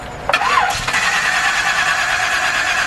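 A 1969 Ford Capri engine cranks and catches in a loud, close start, then settles into a steady rough idle.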